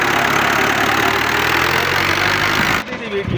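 A sugarcane tractor hitched to a trolley idles with a loud, steady diesel rumble and hum that fills most of the clip, then drops away sharply near the end, leaving quieter background sound.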